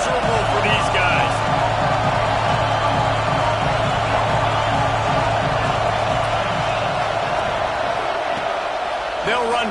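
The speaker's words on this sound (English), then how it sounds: "These fans are going absolutely nuts." Roaring stadium crowd noise in the College Football 26 video game, a loud, constant dense wall of fan din under continuous play-by-play commentary.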